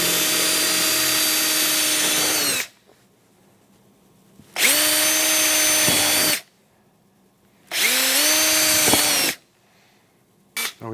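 Power drill boring holes for an SLP vent kit on a Polaris AXYS snowmobile, three loud close whining bursts of about two seconds each with steady pitch, separated by quiet gaps, then a brief start at the end.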